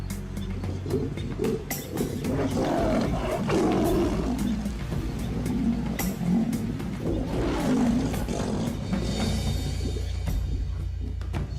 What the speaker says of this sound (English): There are too many lions around.